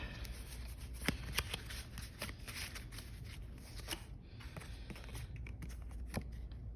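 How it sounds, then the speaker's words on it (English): A deck of TBR cards being shuffled and a card pulled, a dense run of quick papery riffles and flicks, close and continuous with no talk. "And we pull a TBR card."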